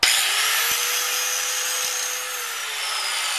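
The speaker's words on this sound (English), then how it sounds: "I'm cleaning up the metal so we can weld these bolts to it" A power tool grinds or wire-brushes steel to clean the metal before bolts are welded on during a steering repair, a loud steady abrasive roar that holds for the whole stretch, with a couple of brief knocks.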